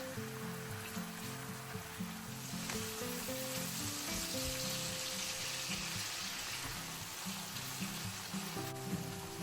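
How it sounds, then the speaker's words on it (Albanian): Chicken and onion sizzle steadily in a hot pan as filling for spring rolls, a soft continuous crackle with no talking over it. "do ta skuqim për disa minuta"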